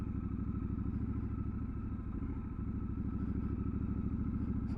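A Triumph Scrambler 1200 XE motorcycle rides along an off-road track, its engine thrumming in a steady low pulse close by, with faint clatter and thumps from the rough ground.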